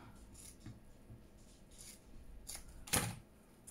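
Scissors snip through craft paper, a single sharp cut standing out near the end over a quiet room with faint handling noises.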